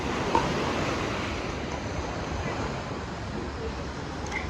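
Ocean waves at high tide wash in steadily beside a beach cafe, making a continuous broadband roar that stays fairly constant, with some wind buffeting the microphone and no clear voices.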